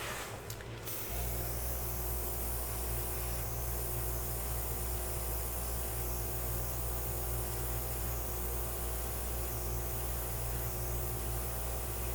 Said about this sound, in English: I like to push out with my airbrush instead of pull in